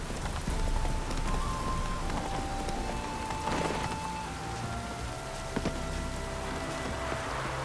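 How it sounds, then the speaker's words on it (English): Steady rain falling on surfaces in the video game The Witcher 3, a dense hiss of drops with faint tonal game sounds in the background. "Looks like rain."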